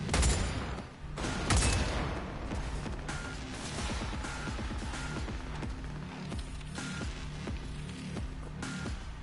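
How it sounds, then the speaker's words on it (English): Power precision rifle firing in the video game XIII, a run of sharp repeated shots with mechanical clatter amid game ambience, fairly quiet overall. "Power precision rifle. Let's try this out. Shoot!"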